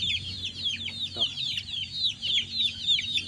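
Gamefowl crossed from Gilmore and Tornado hatch lines clucking in a rapid, repeated series of close, loud clucks, with low background rumble and a brief thump.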